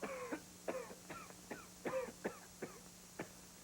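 A series of about eight short, rasping coughs and throat-clearing sounds from a parrot, evenly spaced and fairly close, with no talking.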